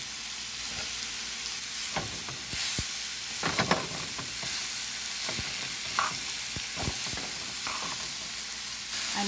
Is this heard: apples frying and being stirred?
yes